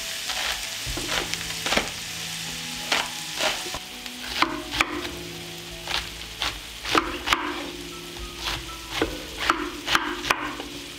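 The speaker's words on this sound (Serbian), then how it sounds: "I sve ćemo promešati i propržiti da omekša. Dok se povrće prži" Vegetables, onion and garlic among them, sizzle and fry in a pan while being stirred, with repeated scraping and clattering strokes at an irregular rhythm over a steady low hiss, close and moderately loud.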